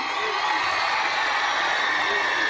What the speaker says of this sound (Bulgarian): Аплодисменти за тази морска песен посред зима, изпълнена от тях двамата